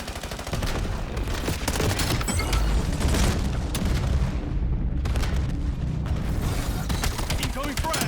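Dense video-game gunfire and booming frag grenade explosions in a Black Ops 7 match, a continuous loud barrage of shots and blasts with a brief lull midway, while a voice talks over the action.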